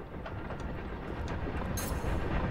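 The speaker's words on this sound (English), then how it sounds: "There's the train." A steam train in Hogwarts Legacy rolls past with a low, steady rumble and a rhythmic clatter of wheels, rising slightly as it nears, moderately quiet, with a brief hiss near the end and no talk.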